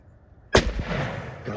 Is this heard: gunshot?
yes